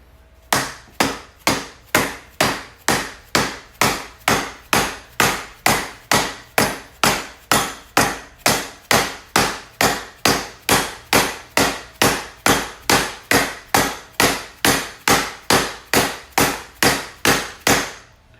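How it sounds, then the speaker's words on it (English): Steady, evenly spaced hammer blows, about thirty-five of them, drive a fork seal into a Legend AXEO 23 e-bike fork through a beveled length of PVC pipe, each strike sharp and loud with no talking. "we can come over the top, and we start to drive this seal in"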